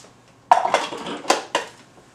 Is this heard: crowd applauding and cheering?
no